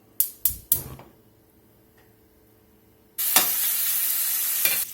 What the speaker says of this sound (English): while our bacon's crisping up